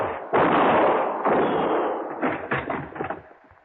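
Gunfire in a 1959 Johnny Dollar radio drama: a loud burst of shots and booming reports, then a ragged cluster of sharper cracks that fade out, close and dominant with no talk.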